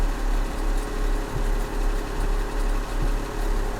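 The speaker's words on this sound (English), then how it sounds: "Let me just fire up the engine so the engine's staying nice and toasty" A truck engine idles steadily at close range, a low rumbling drone with faint periodic knocks and no speech; the start-up itself is not evident.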